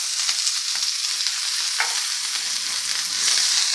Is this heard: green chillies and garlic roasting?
yes